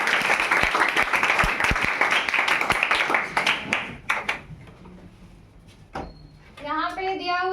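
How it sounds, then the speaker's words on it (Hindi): Classroom applause from a group of students, a burst of scattered clapping over the first few seconds that thins out into sparse claps before a teacher speaks. "ताली बार इनके लिए।"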